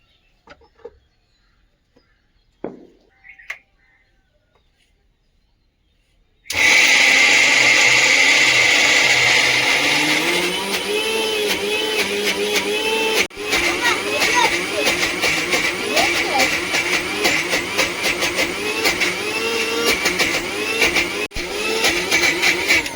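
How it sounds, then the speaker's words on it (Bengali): A new electric mixer grinder whirs into a loud, steady grind of mint chutney with salt, turmeric, coriander powder and a little water, cutting in abruptly after a few quiet seconds of faint sounds, its motor pitch wavering with brief dips. "সামান্য লবণ স্বাদ মতো লবণ ধনে গুঁড়ো সামান্য জল দিয়ে বেটে নেব"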